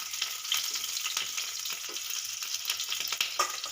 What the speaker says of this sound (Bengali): আমি এই তেলে একেবারে ফোড়ন দিয়ে বসিয়ে দিচ্ছি